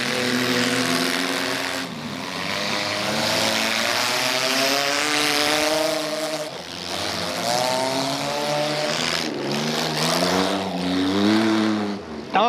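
A demolition derby car engine revs hard on the track at the Upperco spring event, rising and falling through loud repeated pulls with brief dips, close and dominant.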